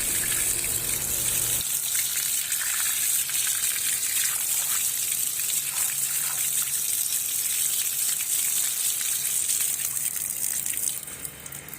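Cold water gushing steadily from pipes, a loud continuous hissing rush with splashing that stays constant throughout.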